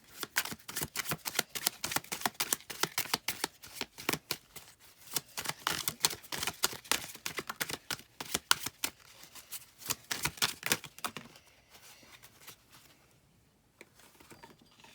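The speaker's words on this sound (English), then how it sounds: "I'm shaking my cards. I always shake my cards." A deck of cards shaken by hand: a rapid, dense run of crisp clicking and rattling for about eleven seconds, close up, then fading to a few faint taps.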